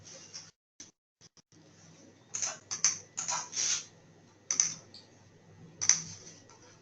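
Computer keyboard and mouse clicks during software testing training, a series of close, crisp taps in irregular bursts over a low steady hum, with no talking.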